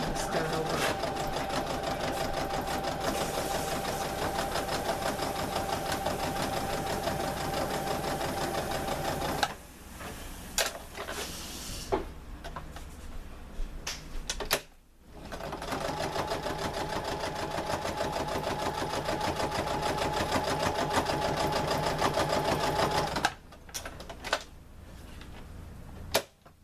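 Sewing machine stitching swimsuit fabric for a homemade bikini, a fast continuous mechanical whir running for long stretches with brief stops and restarts, close and steady.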